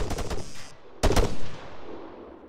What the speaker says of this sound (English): Be advised, shots on the southeast side.